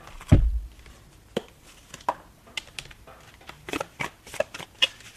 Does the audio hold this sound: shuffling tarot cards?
yes